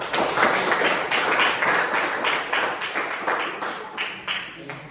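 Classroom participants clap together in a rhythmic, fairly loud burst of hand claps with uneven repeated beats, occasional voices mixed in near the end.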